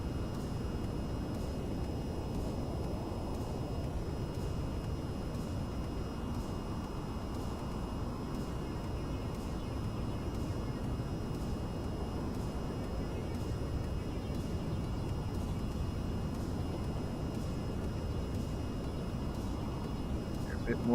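A fighter jet in the VTOL VR flight game flies with a steady, loud engine roar and broadband rush that holds without a break, and a voice talks over it.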